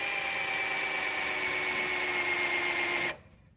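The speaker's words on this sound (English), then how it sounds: "Then I'm going to take my drill. This bit is a 5/8 bit, and we're going to blow a hole right in here." A power drill with a 5/8 bit bores a hole in wood for a foldable sawbuck, giving a steady whining drone for about three seconds before cutting off abruptly.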